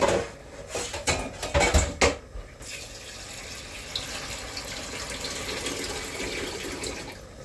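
Kitchen tap water running to cool boiled eggs, opening with a few knocks and splashes of dishes, then a steady moderate stream of water.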